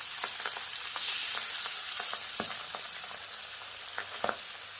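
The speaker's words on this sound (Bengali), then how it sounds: "এবার এই তেলের মধ্যে মাছগুলোকে ভাজা করে নেব" Fish fries in mustard oil in a wok, giving a continuous close sizzle broken by sharp pops and occasional scraping stir sounds, with no voices.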